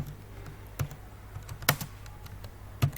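Someone types a few keystrokes with caps lock on a computer keyboard, sparse irregular clicks with two sharper taps, close and fairly quiet.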